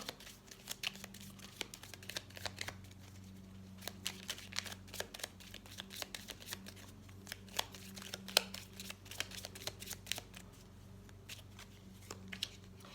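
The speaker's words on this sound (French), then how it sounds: "je vais tirer la carte synthèse pour voir" Tarot cards are handled and drawn, giving faint, scattered crisp clicks and soft shuffling rustles with no talking.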